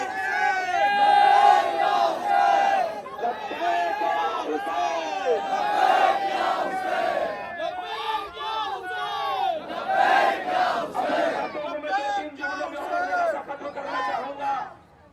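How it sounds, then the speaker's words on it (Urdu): A crowd at a Muharram procession for Imam Hussain in Khureji, Delhi, shouting religious slogans in Hussain's name, loud massed voices rising and falling in rhythmic chant-like bursts throughout. "اب لگتا ہے کہ آپ حسین کے ذرا نعرے لگائیں"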